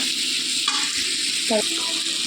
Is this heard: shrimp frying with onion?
yes